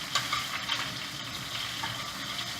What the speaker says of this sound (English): Let's saute them up real quickly.